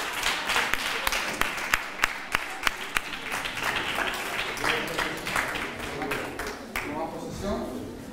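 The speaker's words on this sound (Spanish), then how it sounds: "Un aplauso a Blanca." Applause breaks out with sharp claps at the start, spreading into steady clapping from a group, while voices murmur and talk underneath, at a children's council session in a town hall in Nerva, Spain.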